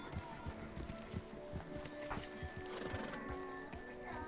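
A horse in Red Dead Redemption 2 gives a whinny while its hooves clip-clop in a steady rhythm, close and continuous, with game ambience and faint talk underneath.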